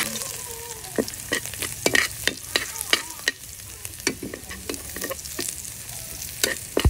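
Garlic, onion and ginger sauté in a pan with a close, busy sizzle broken by frequent sharp scrapes and clicks of a utensil stirring in an irregular rhythm. No one speaks.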